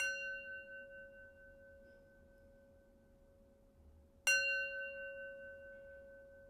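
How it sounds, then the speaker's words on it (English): A meditation bell is struck in a quiet room. Two clear, bright strikes can be heard, each ringing out with a long, pure, slowly fading tone, close and alone. "I'm going to ring the bell 3 times, and then after the sound of the bell subsides"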